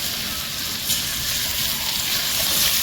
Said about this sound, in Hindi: अब मैं इसमें 5 गिलास वाटर ऐड करती हूँ।